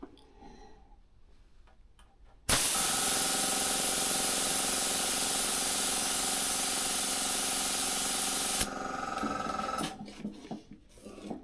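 A spray can hisses in one long, steady, close burst for about six seconds while a helmet is painted, with quiet handling sounds before and after.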